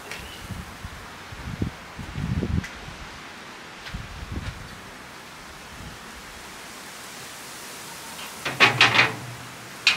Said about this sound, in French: il y a du vent, ça se calme, au moment où vous allez pointer, c'est là que le vent se relève